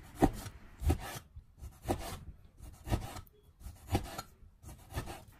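A knife slices lean pork into thin pieces on a wooden cutting board, giving a steady series of about eight evenly spaced, close rasping cuts with quiet gaps between them.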